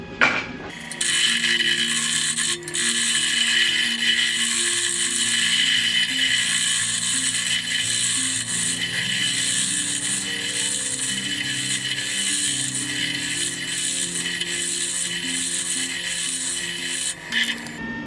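Wood lathe spinning an out-of-round bowl blank while it is trued up, giving a steady loud grinding, rasping scrape with a fast ratcheting chatter that continues unbroken, no voices.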